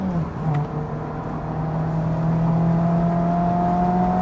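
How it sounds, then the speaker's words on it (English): Mazda Miata ND3 engine at full throttle from inside the car, a steady sustained drone with a faint rising harmonic, continuous and fairly loud with no talk. "I'm flooring it, by the way, and not catching up with the S2000."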